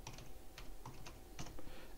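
A password typed on a computer keyboard: a quick, irregular run of close, light key clicks and taps over a low background hum, with no talking.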